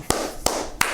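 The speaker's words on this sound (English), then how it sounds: "Round of applause." Three sharp, evenly spaced claps ring out close and loud, a brief mock round of applause by a single person.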